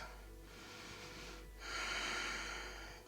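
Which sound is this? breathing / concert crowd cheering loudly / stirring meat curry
breathing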